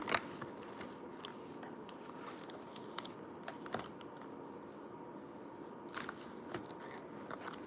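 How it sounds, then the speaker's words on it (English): Close, quiet chewing and biting of food, with irregular crunchy clicks and crackles over a soft steady background for several seconds, no talking. "Let's eat food."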